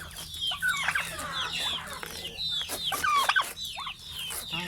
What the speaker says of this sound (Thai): ไก่สิกินต้นกล้วยนะ